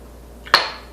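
A glass of water is set down with a single sharp clink, close and fairly loud against a quiet room, with a faint touch just before it.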